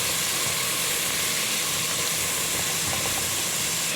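Garlic and onion sautéing in a saucepan, a steady, loud broadband sizzle and hiss that runs unbroken the whole time, close by, with no talking.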